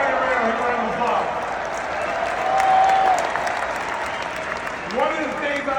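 A basketball arena crowd applauds for Johnny Red Kerr during Derrick Rose's retirement ceremony, a broad steady roar of clapping with voices calling out and talk over it.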